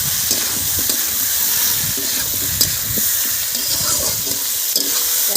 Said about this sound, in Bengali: এখন এটা 5-7 মিনিট ভেজে নেব